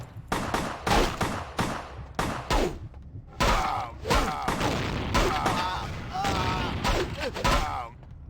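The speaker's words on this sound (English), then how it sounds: "Oh, that's a shotgun." Shotgun blasts in the video game Vampire: The Masquerade - Bloodlines, heard as a series of sharp, loud bursts in quick succession, mixed with other game effects and voices.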